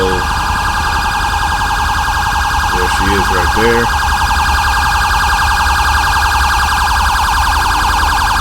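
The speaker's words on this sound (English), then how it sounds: "Please turn those sirens off." A loud, continuous police siren in the video game LSPDFR wails without a break, while someone speaks briefly in the middle.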